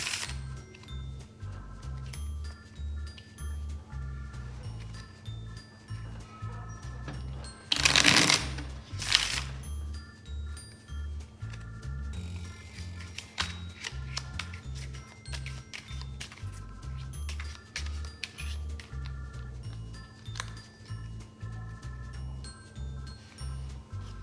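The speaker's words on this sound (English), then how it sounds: "I'm getting a nice arch when I shuffle." A deck of playing cards is riffle-shuffled and bridged at a cribbage table, with repeated crisp fluttering riffles, a louder burst of card riffling around the middle, and soft card handling and taps throughout.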